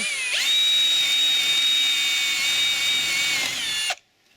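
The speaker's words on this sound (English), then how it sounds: "we've just drilled our 1/4 inch holes in our headboard" A power drill bores 1/4 inch holes through an HDPE toboggan headboard, giving one close, steady, high-pitched whine for about three and a half seconds before it stops abruptly into silence.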